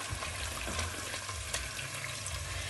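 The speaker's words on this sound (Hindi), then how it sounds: "थोड़ा सा पानी डालूंगी, 2 टेबलस्पून जितना पानी डालूंगी" A small splash of water, about two tablespoons, poured into a pan of yogurt and onion gravy paste for beef kofta, a soft brief gush and sizzle heard close and quiet without talk.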